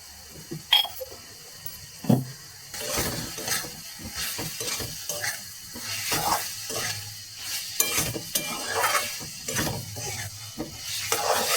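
Mushroom curry sautés in a pan with steady sizzling while a spoon scrapes and stirs in repeated strokes, close and moderately loud.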